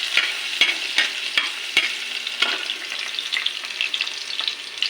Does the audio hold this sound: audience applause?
no